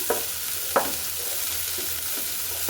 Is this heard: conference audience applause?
no